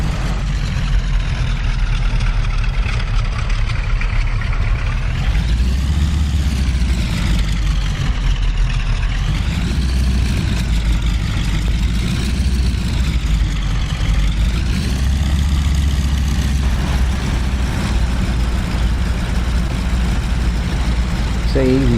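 A Winjeel trainer aircraft taxiing in a flight simulator, its engine droning steadily and loudly throughout, the pitch swelling and easing in slow waves as the throttle is worked.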